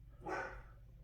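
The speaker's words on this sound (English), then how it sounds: "He's going on a wild barking spree" A single dog bark, one short burst at moderate distance over a low steady hum, with no voices.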